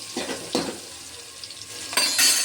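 Chopped onions sauté in a hot pan, giving a close sizzle with scraping stirs of a utensil and a brief clink of cookware.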